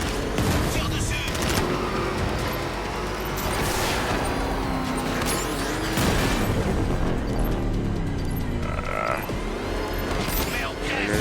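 Gunfire and mechanical clatter from the Batman: Arkham Knight video game form a dense, loud, continuous mix of bursts, booms and creaks running the whole time without a break.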